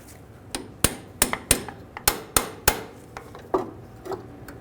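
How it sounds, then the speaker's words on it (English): A hammer taps a punch to drive out a front parking brake cable on a 2007-2013 Chevrolet Silverado 1500, giving about a dozen sharp metallic strikes at uneven intervals, close and loud, with no voices. "I'm just going to use a punch and just try to tap that out."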